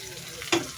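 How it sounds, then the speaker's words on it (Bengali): Vegetables with coriander leaves sautéing in a pan, a steady soft sizzle and frying hiss throughout the short moment, with one brief louder clatter of stirring near the middle. "ধনেপাতা দিয়ে এগুলো কষলাবো"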